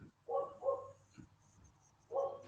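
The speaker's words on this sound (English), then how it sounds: "I apologize for my dog barking on me." A dog barks indoors in the background of a call, three moderate, short woofs in two quick bursts, then a pause before the last one.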